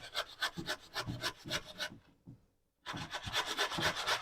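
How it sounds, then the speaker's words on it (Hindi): Half-boiled potatoes are rubbed across a grater in quick, rhythmic scraping strokes close up, breaking off briefly before the grating resumes. "अब ये देखें, ग्रेटर से इनको कद्दूकश कर लेंगे। ये देखो, आपको आवाज से लग रहा होगा आधे कच्चे आधे पक्के हैं।"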